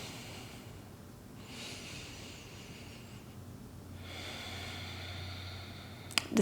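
Slow, deep breathing during a relaxed yin yoga floor pose: two long soft inhale-exhale cycles, close and quiet, with a faint click at the end.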